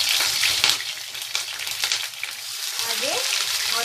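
Three green chillies fry in a hot pan with a lively crackling sizzle, close and fairly loud, broken by brief spatters and a faint stirring scrape near the end.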